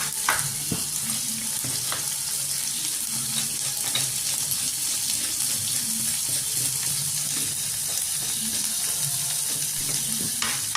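Onions and tomatoes sautéing in a pan for coriander chutney, a steady close sizzle and frying crackle with occasional clinks of stirring, no voices.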